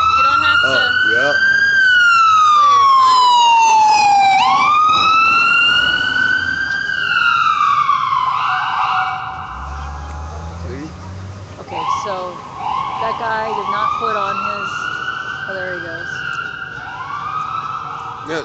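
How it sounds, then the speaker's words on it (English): A loud wailing siren sweeps up and down close by, then shifts to shorter yelps as vehicle noise rumbles underneath. "It was just bumping the siren up there"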